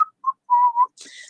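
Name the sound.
voice imitating whistling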